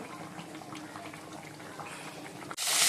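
Fish frying in a pan in a home kitchen gives a steady, close sizzle that runs evenly, then swells into a sudden louder hiss near the end.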